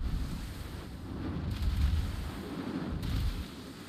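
Naval guns in a World of Warships battle boom as low, rumbling blasts around the middle of the clip, over a steady windy background roar.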